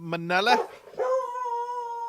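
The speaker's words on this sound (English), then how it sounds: "You can hear my hound dog going off." A hound dog indoors gives a short yelp followed by a long, drawn-out baying howl that holds steady, loud and close, with a person speaking briefly over the start.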